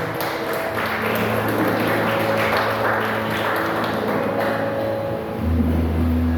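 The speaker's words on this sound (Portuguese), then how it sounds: "Aplauda o Senhor." A church congregation claps during a praise and worship service, a loud, dense and continuous applause that holds steady over sustained organ-like tones and fades slightly near the end.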